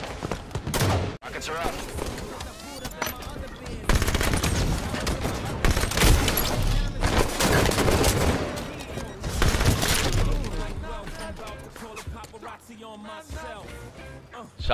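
Shotgun blasts ring out during a Halo 5 free-for-all match, with repeated heavy bursts layered over dense, continuous game noise for about fifteen seconds.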